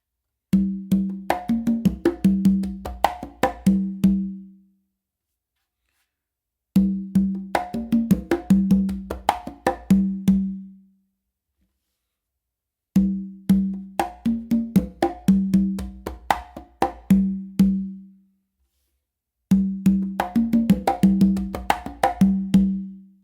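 Fast, driving bomba rhythm on congas with ringing open tones and sharp slaps, played in four long phrases separated by brief pauses, close and clear.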